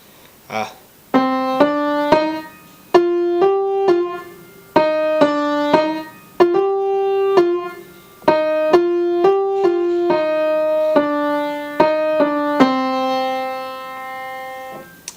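A slow piano melody, single sustained right-hand notes played alone in a steady, unhurried rhythm with short pauses between phrases.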